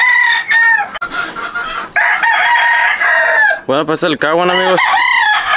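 A rooster crows loudly and close, several long strained calls with clucking between them, while someone speaks Spanish over part of it.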